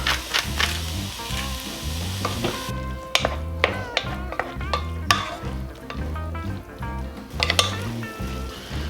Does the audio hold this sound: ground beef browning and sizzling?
yes